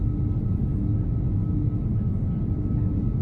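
Low, rumbling engine growl from an iniBuilds A340-300 in a flight simulator game, a steady deep drone that stays even and fairly loud throughout with no talking.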